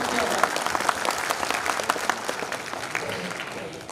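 Audience at a bar association oath ceremony in Udaipur applauding to welcome Praveen Khandelwal, a brief burst of steady, dense clapping from a crowd indoors, moderately loud, with faint talk beneath.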